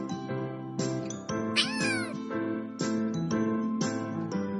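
A cat meows repeatedly in a series of drawn-out, close, loud cries, one rising into a higher wavering yowl midway.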